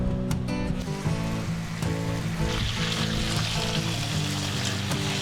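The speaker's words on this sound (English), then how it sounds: "I'm cooking bacon from scratch." Bacon frying in a pan at a car campsite, giving a steady close crackling sizzle that swells and brightens partway through, with no talk.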